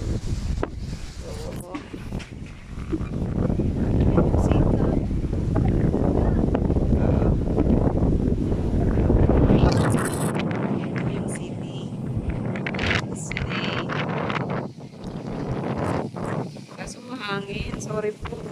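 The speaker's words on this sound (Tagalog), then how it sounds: "Sorry po, hangin." Wind buffets the microphone in heavy, rumbling gusts outdoors at Caesarea National Park in Israel, loud and continuous for most of the stretch before easing, while a person talks over it.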